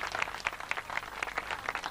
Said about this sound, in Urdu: تو ان کو ذرا ایک تالیوں کا ہاتھ بجا دیجئے۔